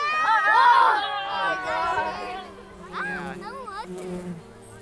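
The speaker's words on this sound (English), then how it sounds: "see, there's a bee on my thumb" A male mason bee crawling on a person's thumb in a backyard garden gives off a close, soft insect buzz, heard under continuous talking voices.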